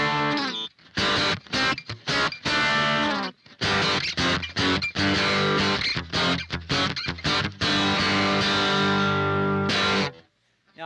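Heavily distorted electric guitar through a diode-modded Boss DS-1 pedal, distortion at 3 o'clock and tone at 1 o'clock, plays chords and riffs, loud and sustained, with short gaps between phrases and a brief pause before a final strum.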